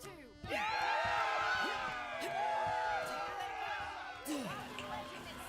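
A crowd in Borderlands 3 cheering and whooping, a dense, sustained roar of many voices with rising and falling shouts throughout.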